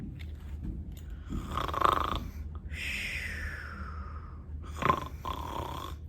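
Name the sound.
person imitating snoring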